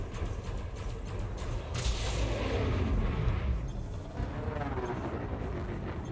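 Plasma weapons firing in the space combat game Elite Dangerous, a loud continuous barrage of heavy booming blasts over a dense engine rumble, swelling in the middle and easing toward the end.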